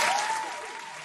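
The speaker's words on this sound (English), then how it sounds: "ladies and gentlemen, if I can get a round of applause, please" A conference audience greets an incoming guest, a startup CEO, with a brief burst of dense applause that fades slightly over about a second.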